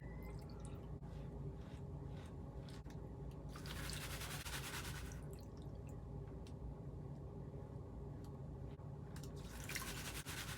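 Water sloshes and swirls in a gold pan as paydirt is worked down to the heavy material, with two louder rushing bursts over a steady, close, wet background and no talking.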